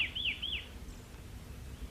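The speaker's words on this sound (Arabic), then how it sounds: "لا ضرورة للخوف، إنه حمام زاجل ويستريح هنا فقط" A carrier pigeon resting nearby gives two or three quick, clear chirping calls in the first half second, then only a faint low background hum remains.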